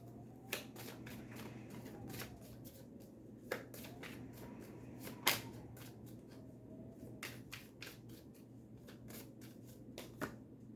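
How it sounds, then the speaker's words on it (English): Oracle cards being shuffled by hand, giving a faint, close series of crisp riffling flicks and slaps at irregular intervals over a quiet room hum, with no voices. "So I'm going to pull some oracle cards to get some additional messages."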